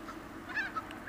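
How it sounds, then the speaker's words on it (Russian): Ducks at Al Qudra Lakes in the Dubai desert, a few faint honking quacks at middle distance over a soft outdoor background. "Некоторые утки ходят прям рядом."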